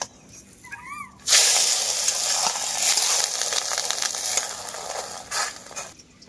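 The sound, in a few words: egg and gram flour batter frying in a pan, sizzling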